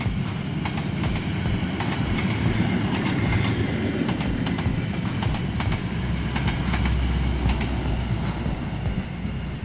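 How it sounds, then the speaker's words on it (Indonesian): A long container freight train rolls by close at hand, a continuous heavy rumble laced with repeated wheel clacks and a deepening low growl toward the end. "Papasan dengan kereta api peti kemas nih."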